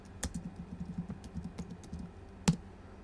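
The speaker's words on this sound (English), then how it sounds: "so I'm just going to type in" Steady, light clicking from a computer keyboard as a search is typed, with close keystrokes in an even run and one sharper key strike near the end, and no talking.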